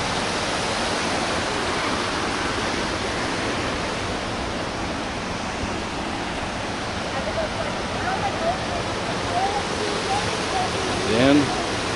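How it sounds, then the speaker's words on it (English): Fast-moving stream water rushing steadily under a trail bridge at Lula Lake, a constant broadband roar lasting throughout, with a few faint bird chirps near the end. "some amazing, fast-moving water."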